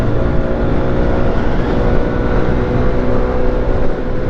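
A Peugeot Django 125 scooter, 2023 model, pulls away at full throttle, its engine droning loud and steady close by with a constant buzzing rumble and no talk.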